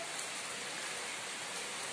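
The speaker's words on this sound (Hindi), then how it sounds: "कैसी बारिश चल रही" Steady cold-season rain falls on trees and surfaces in a continuous, even hiss at moderate distance, with no voices over it.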